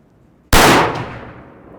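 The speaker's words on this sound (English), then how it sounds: "Another shot, ring the plate." A 300 Blackout rifle fires a single loud, sharp shot from a short barrel, followed almost at once by the ring of a struck steel plate. The ring decays over about a second, with no voices.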